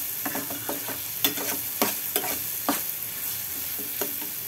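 Vegetables and semolina stirred in a pan with Maggi masala: a steady soft sizzle with repeated scraping strokes of the spoon, close and alone, no talking.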